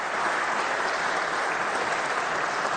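Steady, dense audience applause at a political speech, a continuous wash of many hands clapping with no gaps.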